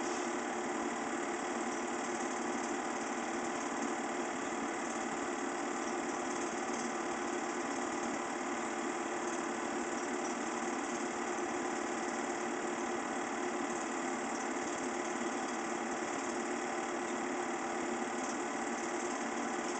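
Steady, dense whine and roar of a CH-47 Chinook helicopter's turbine engines and rotors at a small heliport, continuous and unvarying throughout with no voices.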